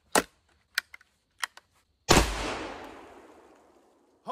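A single loud gunshot from a compact survival kit gun cracks out and rings into a long decaying echo, preceded by a few sharp mechanical clicks of handling.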